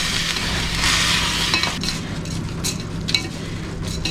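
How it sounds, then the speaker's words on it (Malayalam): Rice sautéing in ghee in a pan for chicken biryani, a close, steady sizzle with a spoon stirring through the grains and a faint clink near the end. "നമുക്ക് നെയ്യിലിട്ടിട്ടൊന്ന് വഴറ്റിയെടുക്കാം."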